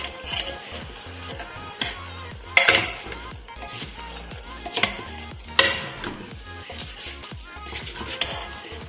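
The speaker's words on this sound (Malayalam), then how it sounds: "ചിക്കനും അരിയും കൂടി നന്നായി ഒന്ന് യോജിപ്പിച്ചെടുക്കാം." Chicken and soaked kaima rice are mixed together in a pressure cooker for biryani, with scraping metal spoon strokes, light clinks against the pot and a faint sizzle in irregular bursts, no talking.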